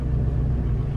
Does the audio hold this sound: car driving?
yes